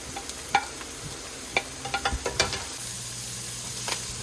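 Beef, onions and carrots sizzle in a pan in rendered beef fat under a steady frying hiss, with a series of scattered utensil scrapes and taps as the pan is stirred.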